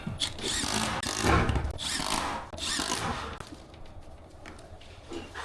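A power drill drives screws during cable installation work, with a few loud whirring bursts close by, a couple of seconds each, followed by quieter handling noise.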